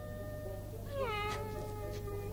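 A cat meows once over a steady low hum in an indoor scene from a 2004 Christmas film, a clear rising-then-falling call of moderate loudness with no talking.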